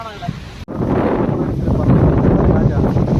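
Loud gusting wind at Kundala dam in Munnar blasts the microphone after a brief cut, a dense rumbling roar that builds and holds, with a faint voice beneath.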